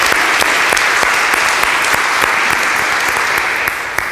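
A crowd at a public address applauds steadily, with dense, loud clapping filling the whole stretch and no talking over it.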